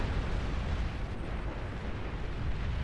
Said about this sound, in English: Opposing nukes blowing up our forces.